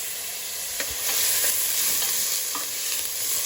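Scallions, chives and cilantro sizzle in a hot pot on a stove as a spoon stirs them, with a steady frying hiss and a few soft scraping strokes, close and without talk.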